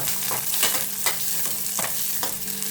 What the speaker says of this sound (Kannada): ಸಣ್ಣದು ಚಿಕ್ಕದು ಸಾಂಬಾರು ಈರುಳ್ಳಿ ಹಾಕೋತೀನಿ. ಒಂದೆರಡು ಬೆಳ್ಳುಳ್ಳಿ, ಸ್ವಲ್ಪ ಶುಂಠಿ, ಇದಿಷ್ಟನ್ನು ಫಸ್ಟು ಫ್ರೈ ಮಾಡ್ಕೊಳ್ಳೋಣ.